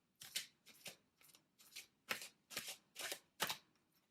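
Angel Love tarot cards being shuffled close up, eight separate soft papery bursts of riffling spaced across a few seconds in an otherwise quiet room.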